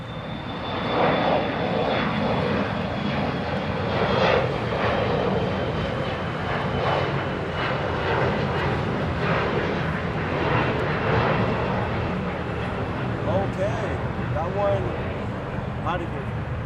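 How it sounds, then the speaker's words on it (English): Delta airliners at LAX roar steadily through a long takeoff run, a loud, continuous engine rumble with a high whine, as a voice talks over it at times. "2 Delta planes taking off. 1 landing, 1 taking off."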